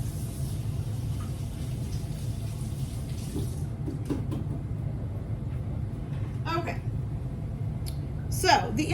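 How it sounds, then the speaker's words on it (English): A kitchen tap runs in a steady hiss for a few seconds during handwashing, then cuts off. Faint clicks and handling sounds follow over a low background hum. "let me wash my hands real quick"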